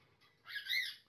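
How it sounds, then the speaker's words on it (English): Birds squawk faintly in the background, with one rising harsh call swelling briefly and then fading, and no other sound nearby. "shut up, birds"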